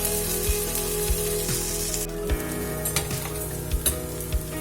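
Appe made from leftover rice frying in a little oil in a pan, giving a loud continuous sizzle and crackle with a few soft knocks of a utensil, no voices.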